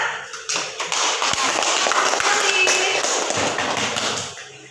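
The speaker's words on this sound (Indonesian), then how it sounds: "Tepuk tangan untuk Ihsan dan Naya." Classroom applause from a group of students, a dense, steady patter of many hands clapping close by, loud throughout and tapering off at the end, with no talk.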